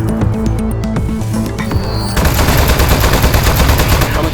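Shooting in Aperture Desk Job: a steady electronic tone breaks into a loud, fast, continuous stream of rapid-fire blasts that keeps going to the end.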